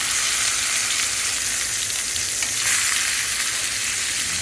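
Cheap beef hamburger steak fries in a preheated iron skillet, giving a loud, steady, close-up sizzle that crackles evenly throughout with no voices.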